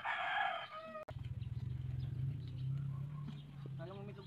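A rooster crows nearby, a long drawn-out call, with clucking and other bird sounds following; a voice speaks briefly at the start, in the Philippines near Taal Volcano.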